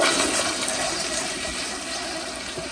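2009 elongated Proflo Gilpin pressure-assist toilet flushing, a loud steady forceful rush of water lasting throughout, close by with no talking.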